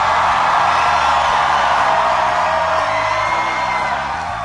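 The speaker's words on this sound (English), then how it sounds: "Boy, what a crowd." A big crowd at a political rally roars and whoops continuously, a loud dense wash of cheering with no breaks.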